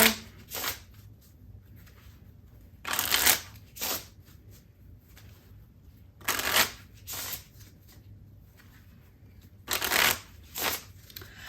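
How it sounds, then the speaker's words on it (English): A deck of cards is riffle-shuffled several times, each a short crisp flurry of flicking, with quiet gaps between and no voices. "let's shuffle, and I'm seeing that my joker's on the bottom, so I definitely need to shuffle."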